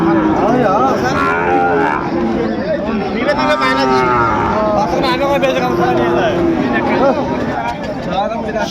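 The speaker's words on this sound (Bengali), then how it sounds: "এখানে চমৎকার একটি গরু দেখাশোনা চলছে সাইওয়ালার ষাঁড় বাচ্চা" A Sahiwal breed bull calf lows repeatedly in a long, harmonic moo at a busy cattle market, loud and close, with crowd chatter and people talking throughout.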